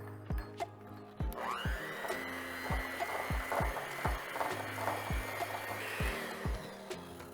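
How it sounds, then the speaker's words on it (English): A hand mixer whirs as it beats brown and white granulated sugar for red velvet cookies, a sustained motor whine running under repeated scraping and knocking of the beaters against the bowl. "I'm gonna mix this with a hand mixer."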